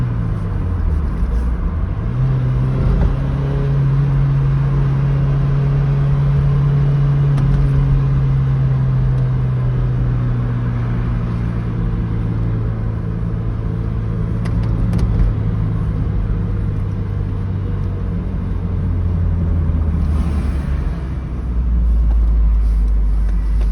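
A Toyota MR sports car, driven in the RallyArt 2023 event, gives a loud, continuous in-cabin engine drone. Its pitch climbs and settles as the car accelerates and shifts gears, with road rumble underneath and no one talking.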